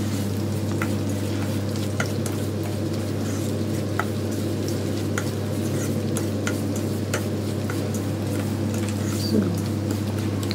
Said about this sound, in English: So sort the rava in the ghee.